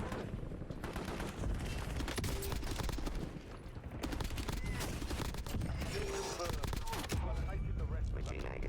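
Rapid gunfire from hip firing in the Black Ops 7 Warzone video game, dense bursts and rattling shots running nearly continuously at steady loudness, with a brief lull midway and faint voices mixed in.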